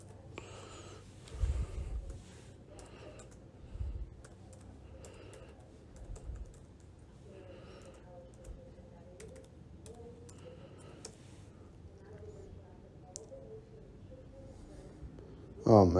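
Quiet clicks of a computer keyboard as someone types an email address, irregular keystrokes close by with a few louder bumps and a brief burst at the end.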